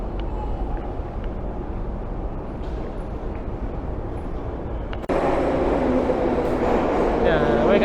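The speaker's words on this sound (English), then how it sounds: "So this is the subway in Tashkent." A subway train in the Tashkent metro moves along as a steady low rumble, then swells abruptly into a louder roar with a metallic screech as it draws nearer.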